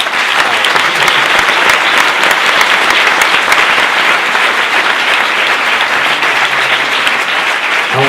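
Loud, sustained applause from a large audience at the premiere of the film "Aunque tú no lo sepas" at Cineteca Madrid, a dense unbroken clapping roar lasting throughout.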